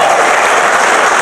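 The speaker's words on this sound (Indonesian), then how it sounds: "Berarti tepuk tangan dulu ini supaya." A church congregation claps together during a sermon, a brief, dense and loud burst of many hands applauding close by.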